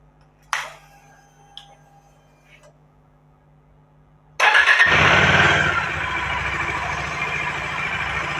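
A motorcycle engine cranks and catches after a few quiet clicks, bursting into a loud roar that settles into a steady, close idle.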